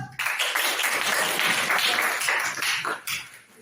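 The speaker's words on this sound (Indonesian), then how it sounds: "Tepuk tangan buat kamu." A classroom of students claps for a classmate, dense brisk applause that fills the room evenly before tapering with a brief dip and a few last claps.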